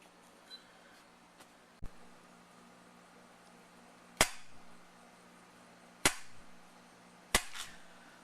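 KZ1100 motorcycle carburetor throttle linkage snapping shut, a few sharp metallic clicks spaced a second or two apart, close and fairly loud against a quiet room.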